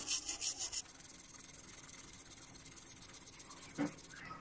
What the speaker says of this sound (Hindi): एक ब्रश के ऊपर आप एम डालकर इसकी अच्छे तरीके से सफाई कीजिए